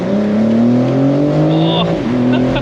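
A 2023 BMW M4 Competition G83 Cabriolet kicks down and accelerates hard. Its loud engine note rises steadily, dips briefly as if shifting gear, then climbs again close to the listener.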